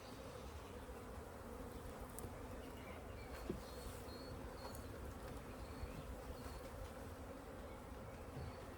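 Bees swarm and buzz steadily around a beekeeper working an open top bar hive during a first inspection, a dense continuous hum close by with occasional louder passes near the ear.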